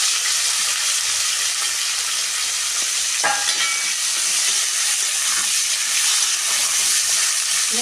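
Chopped onion, tomato and green chilli sizzle steadily in a hot pan, a continuous loud frying hiss with occasional sharper crackles and a brief stir partway through, no voices.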